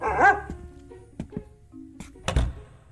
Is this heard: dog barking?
yes